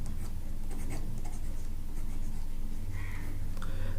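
Pen writing by hand on paper while solving a maths problem, a steady scratchy scribble of strokes throughout, close and fairly loud with no talk.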